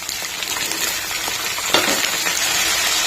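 Spring onions fry in a pan with green chili and curry leaves, a steady close sizzle with a brief louder burst of crackling partway through and no voices.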